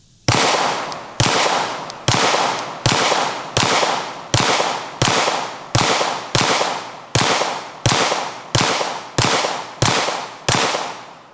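Fifteen gunshots fired one after another at cheap body armor, each a loud sharp crack with a decaying ring, spaced under a second apart in a fairly even rhythm, no voices.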